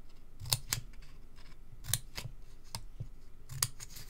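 Scissors snip through paper close by, several crisp cuts that mostly come in quick pairs with short pauses between, fairly quiet and with no talking.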